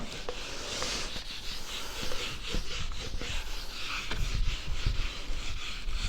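Chalk is rubbed off a classroom board in steady, quiet scrubbing strokes, close and unaccompanied by talk.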